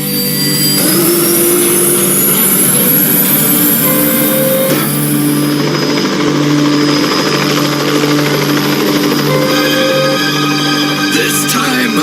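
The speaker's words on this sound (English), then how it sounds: "The copter is repaired." A cartoon helicopter flies with a loud, steady rotor and engine roar that holds throughout, with high whining tones sweeping over it.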